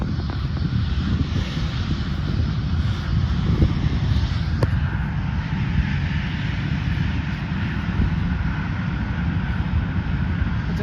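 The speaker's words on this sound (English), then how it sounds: "here's the Delta Airlines Boeing 767-300 coming from Dallas-Fort Worth, DFW" A Delta Airlines Boeing 767-300 widebody jet rumbles past at Dallas Love Field, its engines giving off a steady, heavy low roar with a broad hiss. The sound holds fairly even throughout, with no voices.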